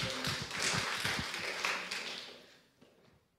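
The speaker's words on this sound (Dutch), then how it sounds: "Zeker applaus voor Mano." Audience applause at a film discussion evening in Amsterdam's De Balie, a dense wash of clapping that holds steady, then thins and fades out over the final second.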